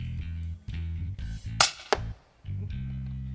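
An air rifle fires at dassies during a hunt in South Africa, giving one sharp, close crack followed by a second smaller snap, set against a low repeating hum.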